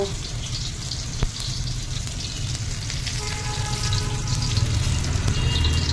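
Chicken fries in refined oil with onions, a steady close sizzle that holds for the whole stretch and grows slightly louder near the end, with a brief knock of a utensil early on.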